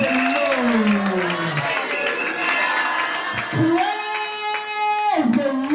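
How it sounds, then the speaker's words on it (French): A crowd at a church event in Paris cheers and applauds continuously while a voice talks and calls out over the noise, with sustained tonal shouts rising above the clapping. "Acclame bien."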